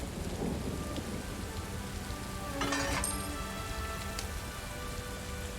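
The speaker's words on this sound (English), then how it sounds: "I'm thinking maybe all this rain means that something's about to happen here." Steady rain hisses down in the fantasy game The Elder Scrolls Online on High Isle, a constant wash of falling drops with a brief brighter crackle midway, sustained and even throughout.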